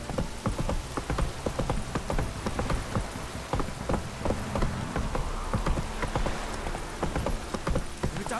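Steady heavy rain pours down in the video game The Witcher 3, with irregular drops and taps pattering loudly on a hard surface throughout.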